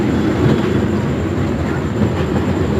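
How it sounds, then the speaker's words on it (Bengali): A fairground Ferris wheel spins at full speed at a village mela, a loud, continuous mechanical rumble and rattle close by, steady throughout with no voices. "এবার কিন্তু নাগরদোলাটা অনেক স্পিডে চলছে"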